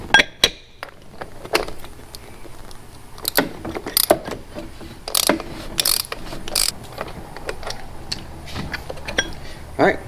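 A socket wrench ratchets on the oil filter cap of a BMW 428i F33, with bursts of sharp close clicks and metallic clatter in irregular runs over a low background hum.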